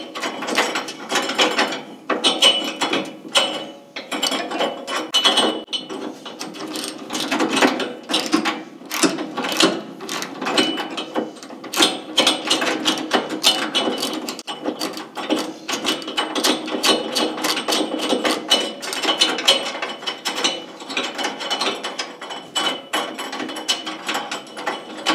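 A ratchet wrench clicks steadily as it loosens a bolt on a Weil-McLain SlimFit boiler, the rapid pawl ticking up close and continuous through the whole stretch.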